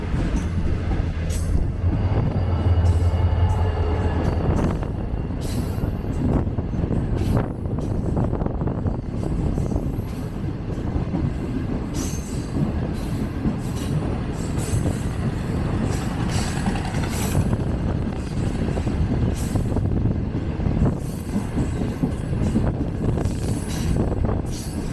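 A Green Line passenger train running in reverse on the tracks between Islamabad and Karachi: a continuous loud rumble of wheels on rail with clattering joints and occasional squeals, heard close from inside the carriage, with no talk.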